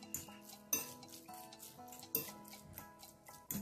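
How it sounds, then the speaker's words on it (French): Carrots in condiment being stirred in a bowl with a utensil, a repeated rhythmic scraping and clinking of about four strokes, close and quiet with nothing else heard. "Je mélange."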